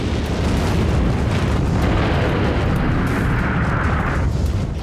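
Sound effect of a nuclear bomb air blast: a sustained, loud, roaring rumble with no distinct onset, broad and noisy for the whole stretch, with no voices over it.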